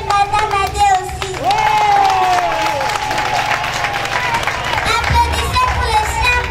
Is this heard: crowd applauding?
yes